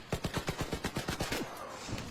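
Rapid automatic rifle fire from a Krebs Custom M23 chambered in 7.62x39 in the Arc Raiders video game, about ten evenly spaced shots in a quick burst followed by a brief tail of echo.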